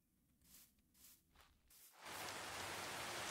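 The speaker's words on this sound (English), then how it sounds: "Oh, and some rain." Rain in Minecraft starts suddenly after a few quiet, scattered sounds and becomes a steady, dense hiss of falling rain that continues to the end.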